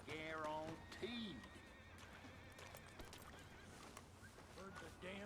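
A horse in Red Dead Redemption II gives a loud, wavering whinny that rises and falls, with a second shorter neigh after it, then hoof clops and faint town chatter in the background.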